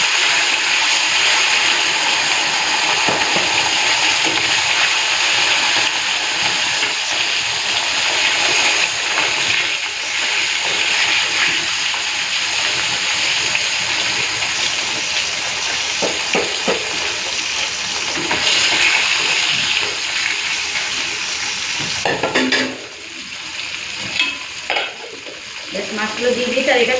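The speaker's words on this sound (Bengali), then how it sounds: "তো তেলটা গরম হয়ে গেছে, এখন মাছগুলো ভেজে নেব" Khoira fish frying one at a time in hot oil, a loud, continuous, close sizzle with stirring and the clink of a pan, fading near the end.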